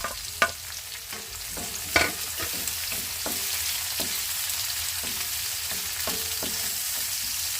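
Tomatoes sizzle steadily in a hot pan while being sautéed for sarciadong tulingan, a broad frying hiss running throughout with sharp spoon-and-pan clicks and scrapes from stirring scattered across it, no voices.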